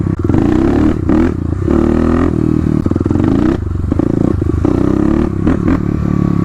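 A Kawasaki KLX351 dirt bike with a non-stock bore is ridden hard, its engine loud and close, revs climbing and dropping through repeated throttle bursts with some clattering.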